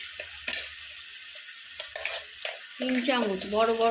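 Garlic paste sizzling in a pan while cooking a spicy dried-fish dish, with a steady frying hiss, a few spoon taps and scrapes, then a voice speaking over the sizzle toward the end.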